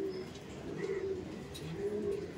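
A female racing-breed pigeon among a large loft flock gives soft, low cooing, a few rounded notes close by over a quiet background with faint distant chirps.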